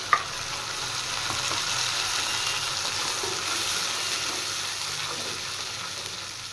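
Onion paste fries in hot oil for a puti fish curry with onion and eggplant, producing a steady, even sizzle close up, with a faint clink at the very start and no voices.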